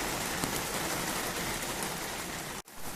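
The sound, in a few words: heavy lashing rain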